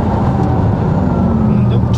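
A steady, loud rush of wind roars through an open rear window inside a moving Porsche, with a low rumbling engine and road drone underneath throughout.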